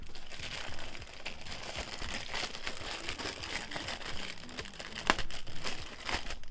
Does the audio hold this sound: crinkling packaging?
yes